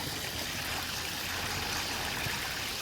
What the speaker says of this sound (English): there's my little waterfall.